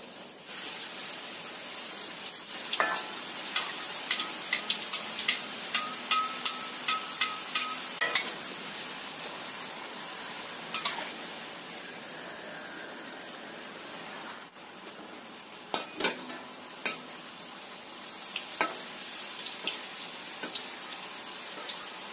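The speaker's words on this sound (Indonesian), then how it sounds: "Kita goreng yang selanjutnya." Crackers (krupuk) frying in oil, a continuous bubbling hiss with scattered sharp pops and crackles, steady and close, with no talking.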